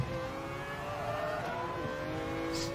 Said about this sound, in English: But did you hear the engine? The engine going...